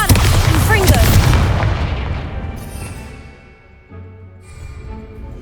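Bombardus and Confringo blasting spells in the Hogwarts Legacy video game burst into a loud, booming pair of explosions up close, then the roar slowly fades over a few seconds into quieter ambient game sound.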